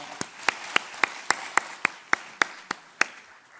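About a dozen sharp hand claps ring out during a church service in a steady, even beat, crisp and fairly close, with no talking.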